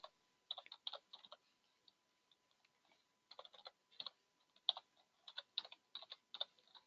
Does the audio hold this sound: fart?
no